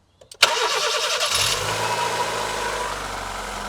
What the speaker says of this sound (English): let's see how the engine sounds